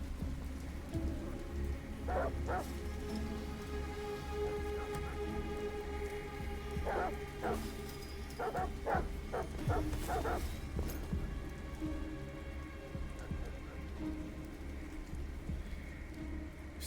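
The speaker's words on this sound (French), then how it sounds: "Après quoi ils aboient encore" Dogs bark in short bursts of several yaps, moderately distant, over steady rain in a video game scene from Detroit: Become Human, with no talk.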